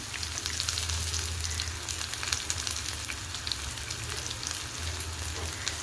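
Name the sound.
onion and curry leaves frying in pan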